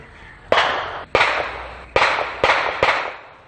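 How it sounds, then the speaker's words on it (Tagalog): Five sharp, loud gunshots at a firing range in Barangay Bibingkahan, Sorsogon, crack in an irregular sequence, each followed by a short echoing decay, with no talking. "Sunod-sunod na putok ng baril ang araw-araw na bumubulabog sa barangay Bibingkahan"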